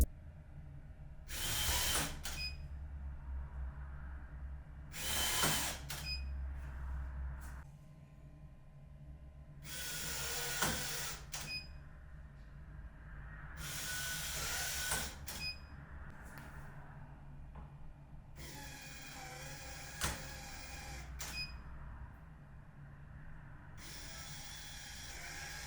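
An Aqara U200 fingerprint smart lock's motor unlocking at different speed settings, five or six separate mechanical whirring bursts with clicks, each a few seconds long and separated by quiet pauses, close and clear.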